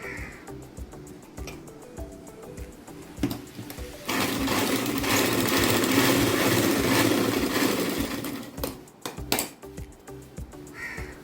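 Sewing machine running steadily for several seconds while stitching tucks into a blouse, a sustained whirring burst in the middle framed by shorter start-stop runs and clicks.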